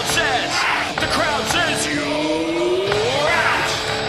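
A cricket crowd at the England versus New Zealand first Test bellows an appeal for a wicket, a loud sustained roar of many voices with one rising, drawn-out yell cutting through near the end.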